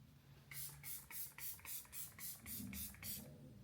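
Setting spray is misted onto a face in about eight quick, evenly spaced bursts, each a sharp close hiss, with a faint low hum underneath.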